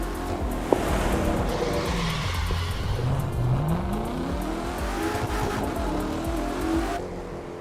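A car in the racing video game The Crew 2 drives and skids, with a continuous engine drone, rising and falling revs and tire squeal over about seven seconds, loud and close with a brief sharp knock near the start.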